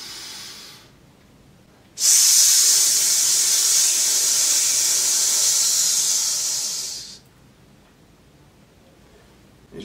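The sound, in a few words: voice imitating a snake's hiss as a chant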